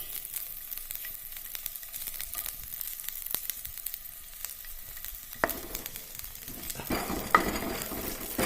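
Chopped onion and green chili sautéing in a pan for a jackfruit-seed roast, a low continuous sizzle with occasional utensil clicks and stirring scrapes, growing busier toward the end.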